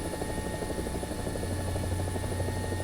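A helicopter in War Thunder flies with a loud, continuous rotor thump and engine whine that holds steady and close throughout.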